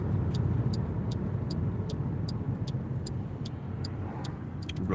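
Car interior on a rainy DoorDash delivery run, steady low engine and road rumble close and continuous, with a regular ticking like a turn signal clicking above it.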